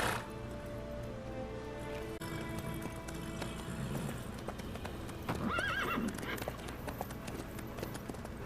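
A horse gallops with quick, rhythmic hoof clip-clops in The Witcher 3 video game, and a loud, wavering neigh rises about two-thirds of the way through.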